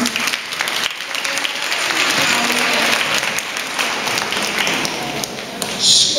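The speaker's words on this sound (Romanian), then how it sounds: "Aplauze, vă rog!" Crowd at an outdoor lantern parade event applauding, dense steady clapping building and holding for several seconds, with a faint voice near the end.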